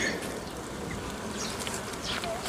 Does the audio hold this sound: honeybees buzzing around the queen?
yes